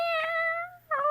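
A house cat shut in another room gives two meows, a long drawn-out cry followed by a short one after a brief pause, clear against a quiet background with no talking.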